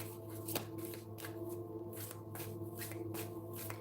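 A Moonology oracle card deck is shuffled by hand, giving a soft, steady riffling and sliding of cards with faint snaps, close by and quiet, with no talking.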